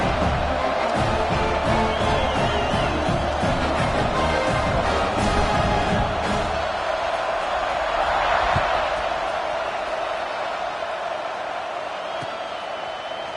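A football stadium crowd at a Ducks vs OSU kickoff roars loudly and continuously. The noise swells, then eases into a broad wash of cheering, with a voice faintly audible at times.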